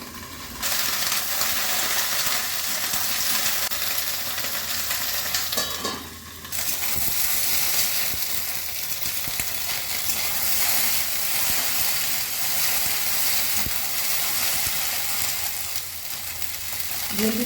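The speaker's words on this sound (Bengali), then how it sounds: "একটু ভেজে দিচ্ছি।" Okra (bhindi) fries in a pan for a masala bhindi dish, giving a loud, even sizzle that runs without pause, with a brief clink of utensil partway through.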